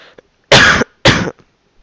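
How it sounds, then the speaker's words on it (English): Two sharp, harsh coughs close up, about half a second apart, with quiet pauses around them. "Sorry, I have a pretty bad cough."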